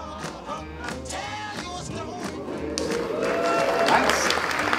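An audience at a fire-eating show claps after a flame trick: scattered individual claps swell into steadier, denser applause near the performer, with some voices mixed in.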